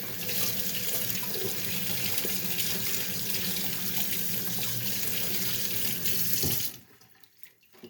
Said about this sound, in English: Time now to rinse the ring.